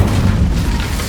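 A loud, deep booming blast bursts from the Incendio fire spell in Hogwarts Legacy, a single heavy rumbling impact that fills the moment.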